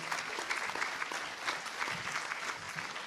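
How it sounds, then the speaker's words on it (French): A conference audience at the Web In Lorient 2014 event claps warmly after a talk, a dense, even burst of applause from many hands that holds steady throughout. "Merci beaucoup Teddy, on peut l'applaudir."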